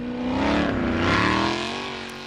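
A Formula Offroad race car on an Icelandic cup course in Norway is driven flat out, its engine roaring and rising in pitch before easing off, loud and close with no talk.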